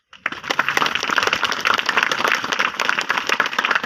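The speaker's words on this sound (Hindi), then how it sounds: "उस भाई के लिए जोरदार तालियां बजाओ।" An audience at a church sermon claps loudly for a fellow member, sharp individual claps rising quickly out of silence into a full, lively burst of applause that holds steady to the end.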